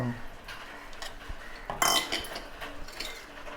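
A spoon stirs a peanut, grated coconut and jackfruit mixture in a pan, soft scraping with a sharp metallic clink near the middle, while a voice murmurs faintly underneath.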